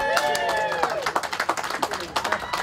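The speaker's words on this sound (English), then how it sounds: "Look, the people over there are clapping." Scattered hand claps from a small crowd at a ribbon cutting and grand opening on Main Street in Galena, Illinois, with uneven bursts of clapping and voices mixed in over the outdoor chatter.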